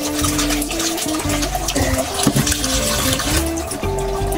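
Beef tripe washed by hand in running water, a steady splashing and trickling with rubbing and sloshing, close and continuous with no talk.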